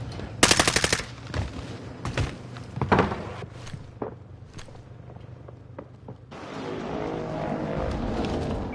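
Rapid bursts of automatic gunfire in the Warzone video game, loud and close at the start, followed by scattered single shots and thuds, then a steady rumble of in-game background noise.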